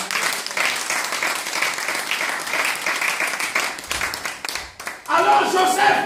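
A church congregation applauds in worship, a dense, sustained wash of clapping that fills the room, easing briefly near the end before surging back louder, with voices mixed into the crowd.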